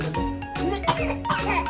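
A young child coughs a few times in quick bursts, close and fairly loud, mixed with child vocal sounds.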